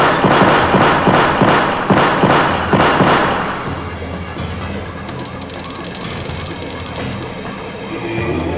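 Heavy weapons fire in the video game Sonic Adventure: a rapid run of loud, booming rhythmic blasts that fades into a lingering rumble with a faint high tone.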